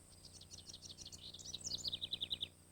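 Wild songbirds in a densely vegetated backyard habitat chirp in quick repeated series of high, bright notes that grow louder toward the end, over a faint background hum.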